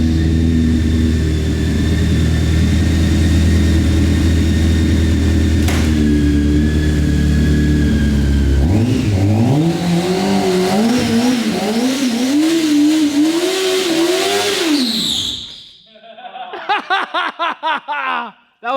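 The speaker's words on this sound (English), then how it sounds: "Sam, I bet you won't do a burnout in the shop." A full-bolt-on BMW 335i idles indoors in a shop, then revs hard in rising and falling surges with a squealing tire burnout, before dying off into laughter and chatter.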